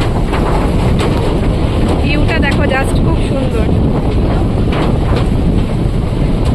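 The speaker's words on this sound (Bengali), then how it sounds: "আর প্রবল বৃষ্টি, দেখো ভীষণ হাওয়াও হচ্ছে কিন্তু বাইরে" Strong wind roars outside during heavy rain in the Sundarbans, a loud, constant rushing that fills the whole clip while a person talks over it.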